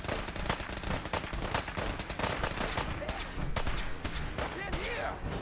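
Dense firefight gunfire from Fallout 4, rapid overlapping shots and bursts crackling continuously throughout, loud and busy, with shouted voices mixed in among the shooting.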